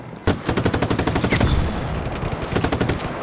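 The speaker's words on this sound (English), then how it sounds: "This is really just a waste of rockets" Rapid bursts of gunfire with loud explosive impacts in the video game Just Cause 3, dense and continuous for a few seconds, with no voices.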